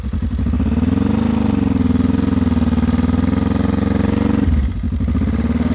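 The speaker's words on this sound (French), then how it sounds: "Démarrage en côte au frein avant, il faudra que j'apprenne à le faire avec la nouvelle moto" A motorcycle engine runs loud and close during a hill start on the front brake, revving steadily with a throbbing tone, then briefly drops before picking up again.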